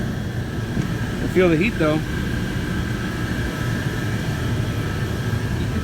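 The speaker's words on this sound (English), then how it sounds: "Fans running are what, 400 CFMs? RPMs, 400 RPMs." Fans of an LG Multi V Inverter S VRF outdoor unit whirring steadily at startup around 400 RPM, a constant broadband rush with a faint tone, under a brief spoken remark.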